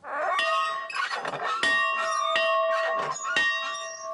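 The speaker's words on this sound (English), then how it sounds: "Love that bell." A bell at the Three Sisters Sanctuary rings in a few clear, close strikes, each leaving a bright sustained tone that hangs and overlaps with the next, heard alone.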